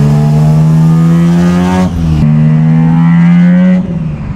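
A Mazda 1300 with a naturally aspirated 13B bridgeport rotary engine revs up hard and close, its raspy, buzzing note climbing, dropping briefly at a shift, then rising again.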